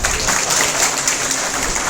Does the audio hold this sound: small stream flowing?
no